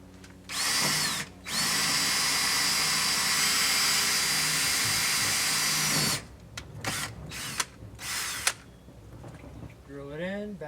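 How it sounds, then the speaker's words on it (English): Cordless power drill driving the last screw into the rail of a Solera slide topper on an RV, a long steady whir followed by shorter bursts as the screw is driven and backed out, close and loud. "Drill it in, back it out."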